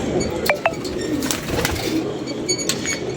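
Pigeons coo in low, rolling murmurs close by, with several overlapping calls, a few sharp chirps and faint clinks in the background.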